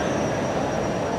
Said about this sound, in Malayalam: Alappuzha Kannur executive express platform number 3-ലേക്ക് കയറി വന്നിട്ടുണ്ട്